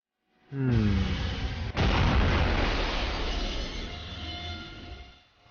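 In the game Fault Milestone One, a Pentagram incineration spell erupts: a falling tonal whine, then a sharp crack and a loud, sustained roaring blast that slowly fades over several seconds.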